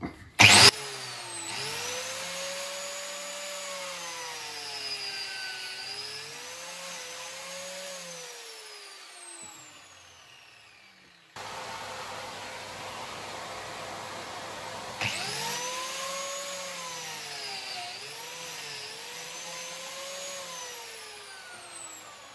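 Biscuit joiner whining as it cuts a slot into wood, a sustained motor tone running for several seconds, winding down, then starting again for a second long run, loud and close with no talking.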